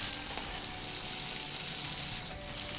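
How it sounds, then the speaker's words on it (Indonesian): Tofu frying in a pan of hot oil, a continuous dense sizzle with steady crackling and no talk. "Lalu goreng tahu"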